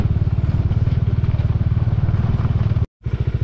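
Motorcycle engines on a high mountain road between Lingshed and Wanla in Ladakh, a steady pulsing mid-pitched engine drone that carries loud and continuous, briefly cutting out near the end before resuming.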